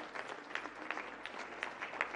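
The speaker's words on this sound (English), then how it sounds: "let's welcome the MD of Graphic with a round of applause" Clapping from a business breakfast audience welcoming the managing director of Graphic, fairly faint and patchy, with individual hand claps standing out over a thin crowd wash.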